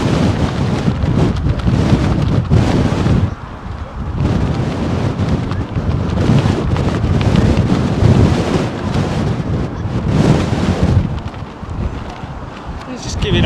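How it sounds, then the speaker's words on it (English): Blustery wind at Heathrow Airport buffets the microphone in heavy rumbling gusts that surge and ease, dropping briefly into lulls between loud rushes. "Let's just give you an idea how blustery it is here, folks."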